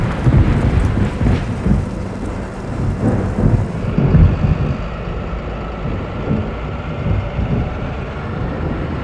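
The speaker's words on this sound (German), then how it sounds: "Aber da vorne sieht es nach ziemlich heftigen Regen aus." Heavy tropical rain pours steadily in the Amazon rainforest while thunder rumbles and rolls loudly, a dense continuous wash of sound with no voices.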